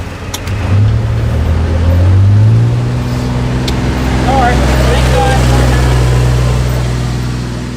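Car traffic passing through a garden area, an engine rising as a vehicle approaches close by and then a steady motor hum as it goes past, loud and alone without talk.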